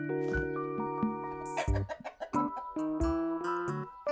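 A chicken in a pet shop video game gives a string of loud, close, tonal clucks and squawks in an uneven rhythm, with no talking.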